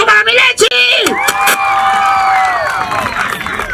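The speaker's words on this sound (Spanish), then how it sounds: "¡Aplauso para Mirechi!" A comedy show audience cheers and applauds for Mirechi, loud whoops and crowd voices mixing with clapping, with some shouting and talk over the din.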